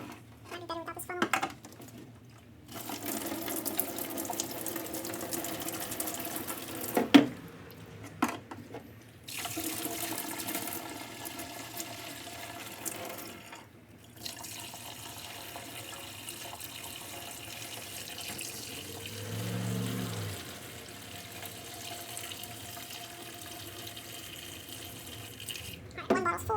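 Liquid pours through a funnel into a bottle during rust removal from the fuel tank of a 1978 DT400 motorcycle, a quiet running splash in long stretches with brief pauses and handling clatter.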